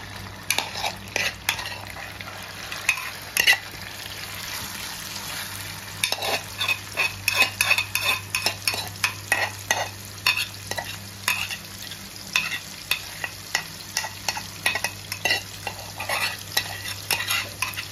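Prawns seasoned with asafoetida fry in oil while a spoon stirs them, giving a continuous sizzle broken by repeated scraping and clattering strokes against the pan, close and fairly loud.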